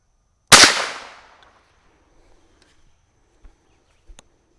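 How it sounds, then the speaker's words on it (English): A single CCI Velocitor round fired from a rifle over a chronograph at an outdoor range, one sharp loud crack with a fading echoing tail, followed by faint small knocks. "here is a Velocitor out of the rifle over the chronograph"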